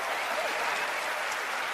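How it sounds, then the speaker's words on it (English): Audience applause at a television magic competition show taping, a steady dense wash of clapping from a studio crowd that stays loud and even throughout. "Let's give them a big round of applause."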